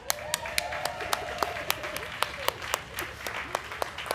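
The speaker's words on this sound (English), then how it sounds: "let's give ourselves a round of applause." A congregation applauding at a Sunday service celebrating MLK: a crowd claps in a fairly steady rhythm, with individual sharp claps standing out near the microphone above a dense background of applause.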